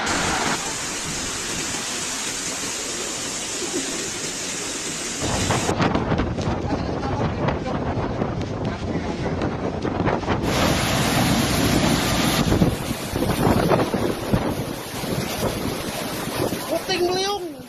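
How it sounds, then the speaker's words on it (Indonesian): Heavy rain pours down on Jakarta with roaring gusts of wind buffeting the microphone, the noise swelling and shifting, with a voice speaking faintly underneath. "Jakarta digulung hujan deras dan angin kencang"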